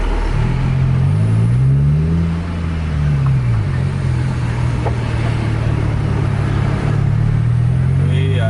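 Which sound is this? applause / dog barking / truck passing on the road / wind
truck passing on the road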